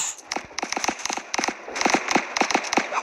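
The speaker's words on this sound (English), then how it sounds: "I can hear guns being fired" Guns fire in an infection-style video game, a rapid crackling run of dense popping shots in bursts that carry on through the whole clip, steady and fairly close.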